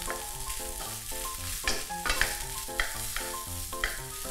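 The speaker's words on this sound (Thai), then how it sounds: "คลุกไข่ให้ทั่วกับข้าวนะครับให้เข้ากันดี" Rice and egg are tossed together in a hot pan for Thai fried rice, with a loud, constant sizzle broken by repeated scraping strokes, set against steady background music.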